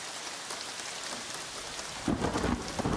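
Heavy rain pours steadily on surfaces in an unusual Egyptian rainstorm, a dense hiss joined midway by loud, rumbling thunder bursts close by.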